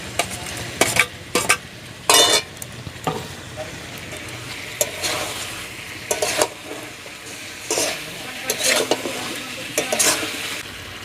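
Potatoes stirred into a sizzling pan of frying chicken feet curry, with loud intermittent scrapes and clanks of a spoon against the pot over a steady low fry, and no voices.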